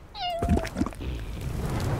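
A cartoonish cat from the Little Inferno video game lets out a single clear meow near the start, followed by a few soft thuds and quiet background sound.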